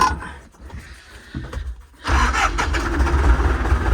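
A YuMZ-6 tractor engine is cranked with a few uneven bursts, then catches about halfway through and settles into a loud, close, steady running rumble.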